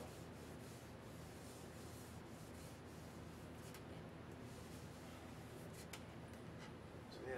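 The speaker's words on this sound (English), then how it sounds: "rub it in the grain, and it's still nice and wet like this, just buff it in" Sealer is buffed by hand into the grain of a stained DW drum shell, a very quiet, continuous soft rubbing and wiping texture, close and steady, with no talking.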